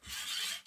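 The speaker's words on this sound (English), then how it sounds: "So I'm gonna start sawing in, again, slow motions" One short rasping stroke of a hand saw cutting a metal fork steerer tube on a mountain bike, close and alone.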